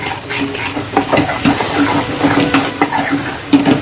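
Garam masala and red chilli powder fry in a pan for rajma curry, a loud close sizzle with repeated spatula scraping and light metallic clinks as the mixture is stirred.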